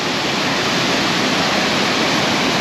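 Josephine Falls, a waterfall in Far North Queensland, roars with a loud, dense, unbroken rush of falling water, close and steady throughout.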